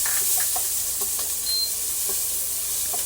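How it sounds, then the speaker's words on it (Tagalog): Ginger and onion sauté in hot oil in a pan, a steady close sizzle and hiss running throughout with faint stirring clicks. "Nagpainit na po ako ng kawali and then lagyan po natin ng mantika. Magigisa po tayo ng luya."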